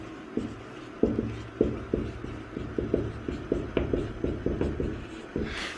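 A teacher writes on a classroom board during a physics lesson, making a quick, regular series of tapping, scratching strokes that sound close and fairly loud, with no talk.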